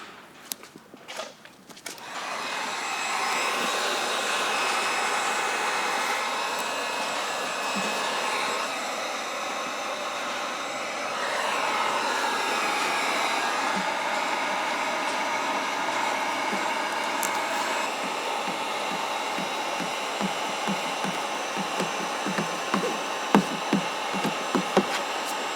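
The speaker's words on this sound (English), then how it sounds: "We need to use our heat gun." A heat gun blows a steady, loud rush of hot air while warming vinyl graphic film on a Ford Bronco, running almost unbroken for about twenty-five seconds after a few knocks at the start.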